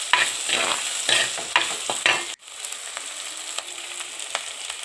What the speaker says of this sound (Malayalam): ഇതിലോട്ട് സവാളയും പച്ചമുളകും തട്ടിക്കൊടുക്കാം.